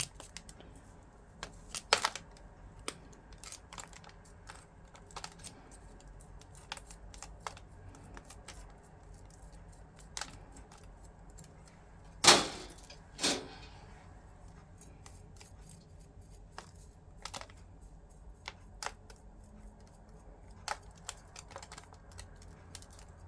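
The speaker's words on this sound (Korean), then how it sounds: "뜯어내지 않고 이렇게 가위로 자를 거예요." Scissors snip repeatedly at the roots of a yellow-patterned iris during repotting, making short, crisp clicks that are scattered irregularly, with one louder cluster of cuts partway through, and no talking.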